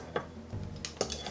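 Utensil stirring vinegar and sugar into a Korean jellyfish salad in a bowl, soft wet mixing with a few light clinks against the dish, close and quiet.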